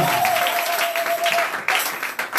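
Church congregation applauding at a French-speaking worship service, a dense steady wash of clapping for a few seconds with a faint sustained tone running underneath.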